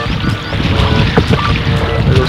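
A canoe fitted with a homemade sail heads upwind across a lake, with steady wind buffeting and water sloshing against the hull, close and fairly loud throughout.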